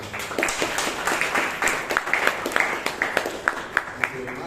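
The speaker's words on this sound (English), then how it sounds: "let's give them also a big round of applause" Audience applause at a Toastmasters club meeting in Bangalore, steady clapping from a room of people with a few sharper individual claps standing out, moderately loud over light room noise.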